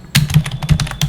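Quick, irregular keystrokes on a computer keyboard while entering text in Figma, a loud burst of clicks close to the mic with no talking.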